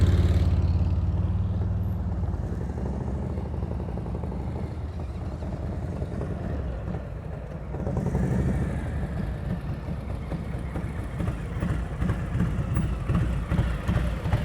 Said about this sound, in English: you hear how your motorcycle sounds right now? That's how it sounded in the turn, which means you're not loaded. You're at idle.